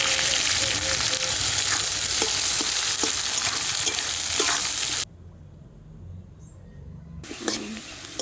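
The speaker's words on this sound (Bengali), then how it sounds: "পেঁয়াজটা লাল লাল করে ভাজা হয়ে গেছে।" Chopped onion fries in oil left from frying potatoes, with dried red chilli, cardamom, cumin and bay leaf, for a country chicken curry. A loud, steady close sizzle with faint scraping cuts out abruptly near the end, then returns briefly.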